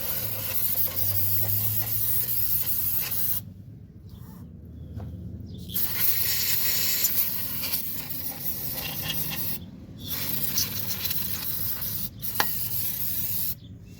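Brake cleaner hisses out of an aerosol can onto a vintage Manco Thunderbird minibike leaned over on its side, in several close spray bursts separated by short pauses.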